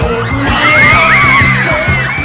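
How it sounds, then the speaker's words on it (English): Thousands of fans scream at the Bay City Rollers, a dense, continuous wall of high shrieks and yells with rising and falling whoops layered over a loud, close crowd roar that never lets up. "having thousands of people screaming at you"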